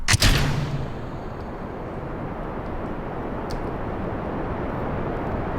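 Rocket boosters firing on a spacecraft in Kerbal Space Program, a sharp burst at the start that settles into a steady, fairly quiet roaring rumble that holds to the end.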